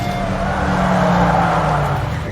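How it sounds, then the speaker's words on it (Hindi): A car circling round and round on the spot, its engine droning steadily and loudly throughout with a faint hint of tyre scrub, no voices over it. "माँ ये किसकी कार है और गोल गोल क्यों घुमा रहा है?"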